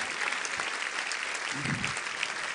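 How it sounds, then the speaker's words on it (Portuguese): Church congregation applauding during an evening worship service, a steady wash of many hands clapping at moderate volume throughout, with faint voices mixed in underneath. "Vamos aplaudir essas pessoas que estão vindo"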